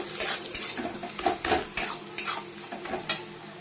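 Onions frying in a pan with turmeric and Kashmiri chilli powder, a close sizzle punctuated by sharp metal spatula clinks and scraping stirs every half second or so, loud and without talk.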